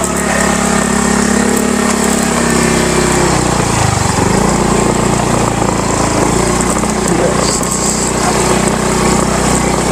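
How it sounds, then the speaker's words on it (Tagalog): A motorcycle engine strains while climbing uphill near Wawa Dam in Montalban, Rizal, a loud, close, continuous buzzing whine whose pitch dips and then rises again partway through. "Kung kaya natin iakyat itong ating motor"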